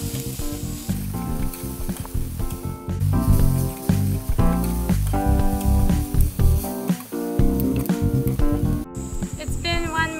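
Zucchini slices sizzle on a hot grill just after being flipped, a loud, steady crackling hiss that runs the whole time with busy bursts of popping over it.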